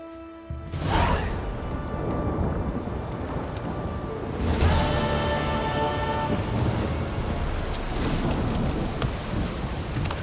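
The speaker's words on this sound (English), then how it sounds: "Storm, damn it." A thunderstorm with heavy rain in the video game The Witcher 3: Wild Hunt, with dense steady rain hiss and two loud rolling thunder crashes that rumble and fade, no speech.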